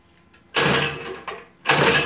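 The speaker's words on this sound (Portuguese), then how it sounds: "Eu vou dar a partida do motor." A new small engine on a homemade drift trike being started, two loud broadband bursts of cranking and catching separated by a brief lull, heard close.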